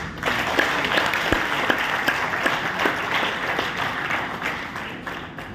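An audience claps together at a union zonal committee meeting in Amritsar, a dense, steady wash of applause that holds at a fairly loud level throughout, with a few sharper individual claps and no talking over it.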